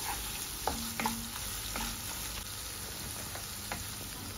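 Bitter gourd sizzles steadily in a pan with cooked egg for a Bangladeshi stir-fry, a close constant hiss punctuated by a few scraping stirs of a spatula, with no talking.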